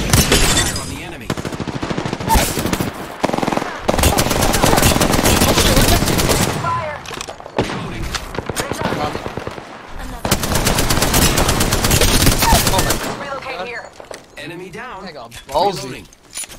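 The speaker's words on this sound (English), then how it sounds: "Some gunfire." Dense bursts of Apex Legends machine-gun fire rattle loudly in long volleys, broken by short pauses, with voices speaking over the action near the end.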